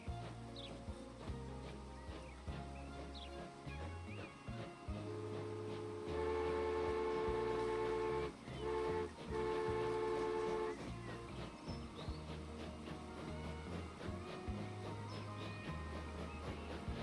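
Continuous rumbling of a train running along the track in the video game Transport Fever 2, with a steady horn tone sounding midway and repeated clicking over a constant low drone.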